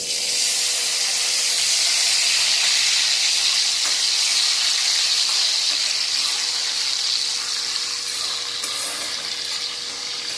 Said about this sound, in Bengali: এবারে আমি এর মধ্যে চিংড়ি মাছগুলোকে দিয়ে ভেজে নেব।